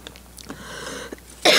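A few short, dry coughs and throat sounds, close and fairly quiet, followed by a sudden burst of louder noise at the end.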